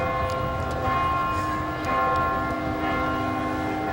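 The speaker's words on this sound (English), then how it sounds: "with the tolling of the bells in the background" Church bells toll steadily at the 1994 Harvard commencement afternoon session, outdoors, with sustained ringing tones and overlapping resonant hum filling the whole stretch at an even, moderately loud level.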